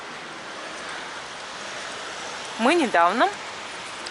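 Light rain patters steadily outdoors, a soft broadband hiss that persists throughout, with a voice briefly speaking near the end.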